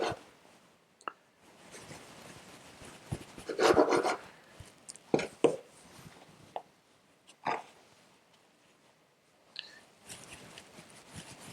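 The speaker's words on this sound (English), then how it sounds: "Our first step is just to cut up the bread." Serrated knife sawing through white sandwich bread into bite-sized pieces, a series of rasping strokes in uneven bursts with pauses between, close and moderately loud.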